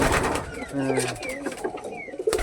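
Pigeons coo close by, a few soft throaty calls over a faint background murmur of voices.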